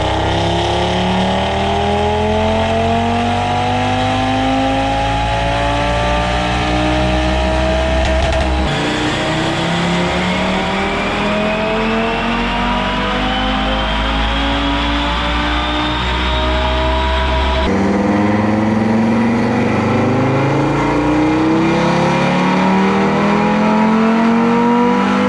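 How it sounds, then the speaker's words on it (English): An Audi RS3 with a Unitronic tune and TTE777 turbo revs hard on a dyno, running pump gas blended with E22. Three loud rising sweeps climb through the gears, each broken by an abrupt shift, with a constant near, droning engine roar. "using Chevron 94 blended with E22 for this particular run."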